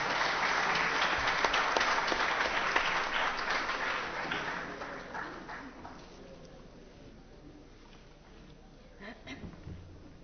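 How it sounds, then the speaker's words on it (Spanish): Applause at a conference on animal abuse greets a law doctor taking the stage, loud sustained clapping that gradually thins and fades, with a few scattered claps lingering near the end. "Recibamos con un fuerte aplauso al doctor Luis Bramón Arias Torres"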